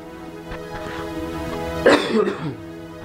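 A short burst of coughing or throat clearing around the middle, fairly close, with low background hum and faint murmurs.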